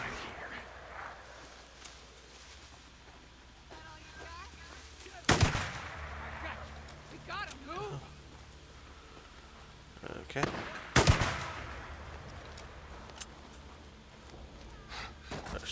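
Two loud gunshot blasts crack out several seconds apart while taking out a sniper in the Days Gone video game. Quieter in-game noises and muffled voices continue between the shots.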